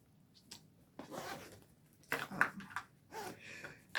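A zipper on a cross-stitch project bag is pulled in several quick rasping strokes, close and quiet, with short pauses and soft handling noises between the pulls.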